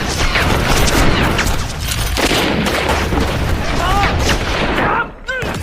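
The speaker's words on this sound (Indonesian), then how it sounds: "kedua kelompok Xuan Wu tidak bisa melihat satu sama lain dan akhirnya saling tembak di persimpangan tersebut" A dense stretch of gunfire and booming blasts from the action film 14 Blades plays loud and continuous, mixed under someone narrating over the scene.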